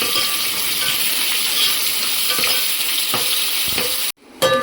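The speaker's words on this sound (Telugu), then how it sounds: "అల్లం వెల్లుల్లి పేస్ట్ కూడా కొంచెం వేగనివ్వాలండి" Ginger garlic paste frying in oil in a pan for vegetable biryani: a dense, continuous hiss with a few light stirring taps, then it cuts off abruptly near the end.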